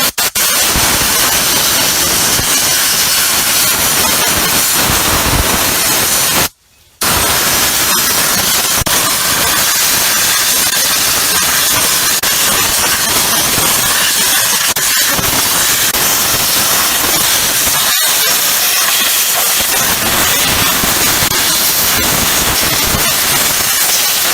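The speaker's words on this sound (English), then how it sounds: "All right, folks, bead blasting is done." Loud, steady hiss of bead blasting on a wheel being prepared for ceramic coating, a continuous roar of air and media that cuts out once briefly, with no talk.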